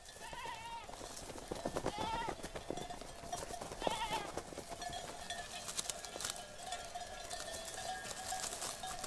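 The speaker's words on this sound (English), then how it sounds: "Few Sicilians still live only from keeping goats." Goats bleating repeatedly while grazing on a Sicilian hillside, several animals calling near and far in overlapping cries over steady outdoor background noise, with faint hoof clatter.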